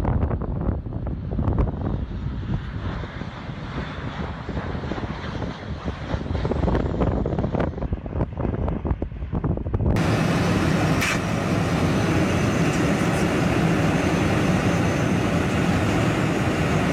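Airliners being flown into retirement roar with heavy wind and engine rumble, first buffeted and uneven, then a steady broadband cabin-like drone for the second half.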